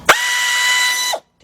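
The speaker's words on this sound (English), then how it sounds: "3/8 drive air ratchet" A 3/8-inch drive air ratchet whirs in one sharp continuous burst of about a second, close and loud, during front brake work on a 2005 Chevy Suburban.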